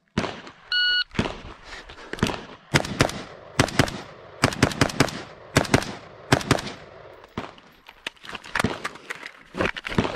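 A timer beep starts a timed shooting course, followed by a loud string of close gunshots in quick irregular bursts with short pauses between strings.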